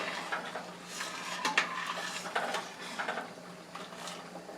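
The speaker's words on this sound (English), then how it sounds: "And I'll give that another stir." Utensil stirring a pot of boiling pasta on a stovetop, giving soft repeated scrapes and clinks against the pot over a steady bubbling background.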